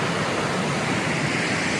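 Galaboda waterfall in Sri Lanka roars as a steady, dense wash of rushing water, loud and unbroken throughout with no voices.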